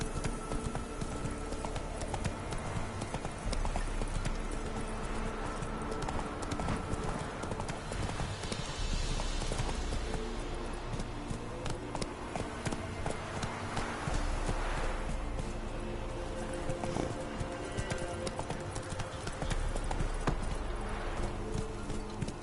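Horse hooves galloping in Skyrim, a steady, rapid clip-clop that runs continuously and fairly close, alone with no talking.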